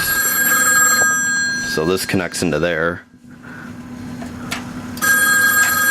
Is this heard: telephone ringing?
yes